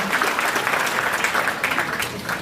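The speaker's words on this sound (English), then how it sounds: "Let's give them a round of applause" A crowd at a school district recognition banquet applauding steadily, dense clapping that holds at an even level for a couple of seconds without a break.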